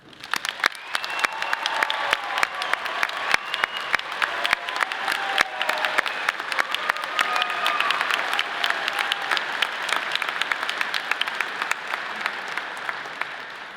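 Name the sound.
audience applause for honors graduates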